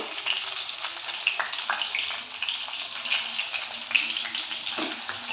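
Potatoes and flat beans fry steadily in a pan with a soft, continuous sizzle and occasional crackles, fairly quiet and without speech.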